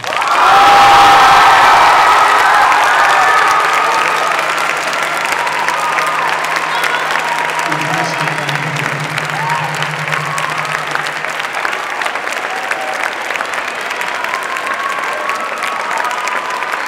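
An audience at a senior recognition ceremony gives loud, sustained applause with cheering and whoops for a Stephanie Pace Marshall Award winner. The applause keeps up for the whole stretch.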